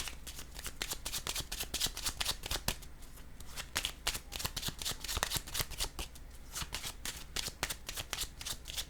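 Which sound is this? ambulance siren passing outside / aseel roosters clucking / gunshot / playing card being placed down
playing card being placed down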